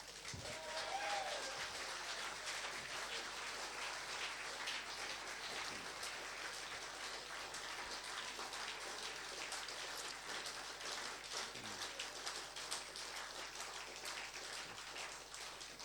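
Audience applause for a band at a live concert in Sheffield, a steady wash of clapping that holds at an even level throughout, with faint voices underneath.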